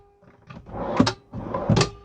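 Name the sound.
drawer opening or closing in camper van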